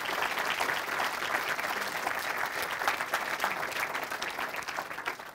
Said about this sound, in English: Let's give Tom a huge round of applause.